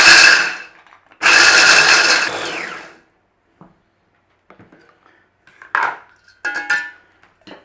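A food processor chops pistachio nuts and almonds in loud, close bursts: two long whirring pulses, then quiet clatter and several shorter grinding blips.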